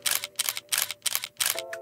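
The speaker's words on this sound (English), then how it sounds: "grab a different camera shutter like the end of this one here and mix it in with every other one" A camera shutter sound effect clicks five times at a steady, even pace, each one a sharp, loud mechanical snap. A faint tone rises under the last click, and no voices are heard.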